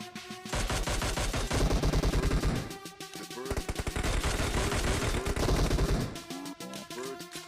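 Rapid automatic gunfire in the mobile battle game PUBG Mobile, with dense bursts of shots in quick rhythmic succession, loud and close, pausing briefly between volleys.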